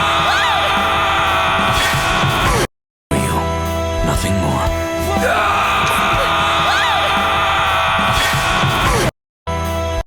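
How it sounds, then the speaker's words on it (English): Cloud, the hero of the Final Fantasy 7 Remake trailer, lets out a loud, drawn-out agonized scream over a dense game soundtrack, with two brief silent gaps breaking up the sustained yelling. "Listen to the scream of my boy Cloud right here"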